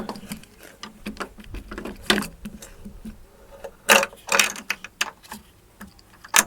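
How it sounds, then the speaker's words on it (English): The boot tailgate switch is pulled out of a Mk1 Skoda Fabia, giving a series of close plastic clicks, scrapes and rattles in irregular bursts, louder toward the end. "Pull the switch out."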